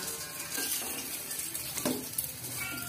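Food sizzles steadily in a hot pan, with a continuous crackling hiss and a few faint utensil scrapes.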